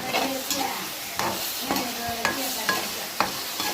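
Onions and tomatoes sautéing in a pan for a tamarind brinjal fry, a steady soft sizzle with a spatula stirring and scraping in regular strokes, close and clear with no talk.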